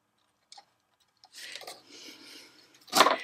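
Scissors trimming excess lace off a stamped paper craft piece, heard as faint, scattered snips and soft rustling that end in a louder burst of cutting and handling.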